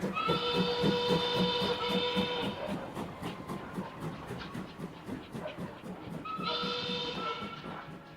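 A London express train runs along the rails, with a loud sustained whistle-like squeal in the first seconds that returns toward the end as it comes to a stop, over steady rumbling wheel noise.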